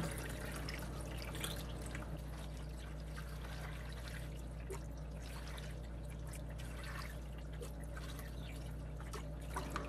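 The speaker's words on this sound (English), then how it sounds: "You got to put water into the filter first before you start it." Water pours and trickles steadily into a Penguin Bio-Wheel 350 aquarium filter while it is primed, a continuous low-level splashing and dribbling with faint drips, close by and uninterrupted for the whole stretch.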